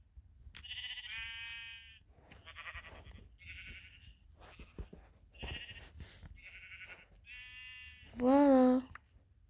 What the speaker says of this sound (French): Le deuxième mouton.